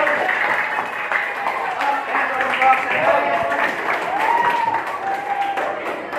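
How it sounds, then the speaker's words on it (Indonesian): A classroom audience bursts into sustained applause for a presenting student group, a dense, steady patter of many hands clapping that swells and dips slightly over about six seconds, with faint voices mixed in. "tepuk tangan buat kelompok 1"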